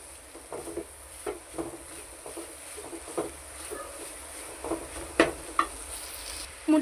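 Egg scrambled and sautéed in oil in a pan for egg semiya, with a soft sizzle under scattered scraping stirs and a few sharp utensil clinks near the end.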